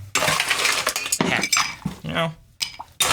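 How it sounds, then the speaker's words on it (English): Ice rattles and clinks into a cocktail glass while a Texas Tea is mixed, a brief cluster of sharp bright knocks and jingles that someone talks over. "we're going to throw the ice in now"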